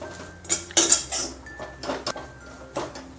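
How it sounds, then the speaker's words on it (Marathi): Roasted coconut and coriander being sautéed in a pan, with a run of clinking, scraping stirs of a metal spoon against the pan, close and fairly crisp. "आता याच्यामध्ये थोडी कोथिंबीर टाकून घेऊ आणि चांगलं परतून घेऊ"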